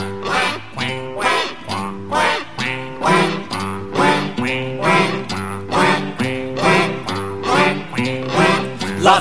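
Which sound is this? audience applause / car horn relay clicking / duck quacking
duck quacking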